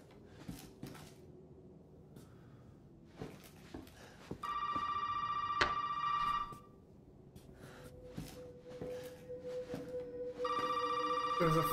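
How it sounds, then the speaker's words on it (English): An old-style telephone rings in a tense horror scene from Resident Evil 7, two long electronic ring bursts separated by a pause, heard over quiet ambience with a voice muttering between rings. "There's a fucking phone."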